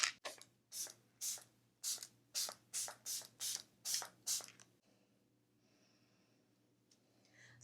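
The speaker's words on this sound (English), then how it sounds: "I'm going to finish off this look with a setting spray." About a dozen quick, close bursts of Danessa Myricks Yummy Skin Liquid Blurring Balm setting spray in a steady rhythm, each a short airy hiss, followed by quiet rustling.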